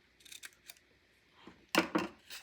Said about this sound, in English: All you have to do then is take your scissors and just